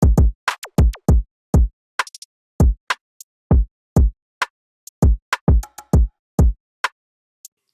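A programmed dancehall drum pattern from FL Studio plays alone: punchy kicks and snappy hits in a steady, looping rhythm, with short crisp high accents between beats.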